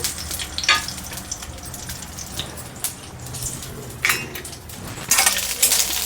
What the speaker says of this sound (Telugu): ఫస్ట్ పచ్చిమిరకాయలు ఫ్రై చేసుకుందామండి